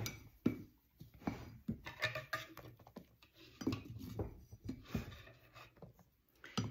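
Bread dough for French baguettes being stirred in a bowl after oil and salt go into a frothy yeast mixture, heard as irregular scraping and clinking strokes of a utensil against the bowl, close and fairly quiet.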